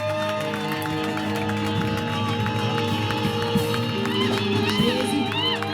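A church congregation at a thanksgiving service cheers and acclaims during a baptism, a sustained crowd noise of mingled shouts and cries over steady background tones, with no pause across the stretch.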